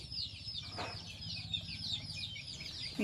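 Large-breed hens in a backyard coop give soft, scattered clucks and short calls against a low steady background hum, fairly faint and without any talking.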